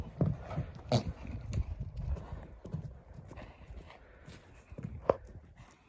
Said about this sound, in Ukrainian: Кобила Рафаела.